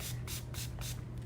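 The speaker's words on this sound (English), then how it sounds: "I'm gonna spray these off real quick" Eyeshadow palettes being sprayed clean, several short hissing bursts from a spray bottle in quick succession, close and fairly loud.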